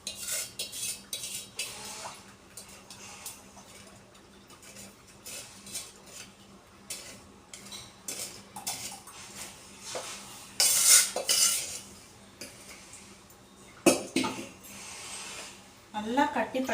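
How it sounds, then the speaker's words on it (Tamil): A spoon stirs and scrapes a rice flour halwa mixture with coconut milk and jaggery syrup in a metal pan, with repeated clinks and a few sharper knocks while a person talks. "நல்லா கட்டிப்படாமல் கரைச்சி விடணும் ஃப்ரெண்ட்ஸ்"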